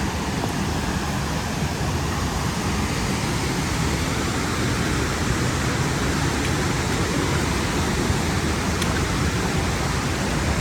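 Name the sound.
waterfall of Bark Camp Creek Cascades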